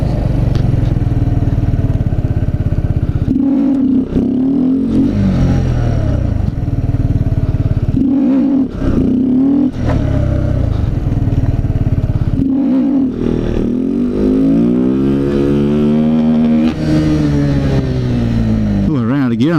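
A Kawasaki Z125 motorcycle engine revs hard through repeated wheelie attempts, rising and falling in pitch near the rider with gear changes and brief throttle cuts, loud and continuous across the ride.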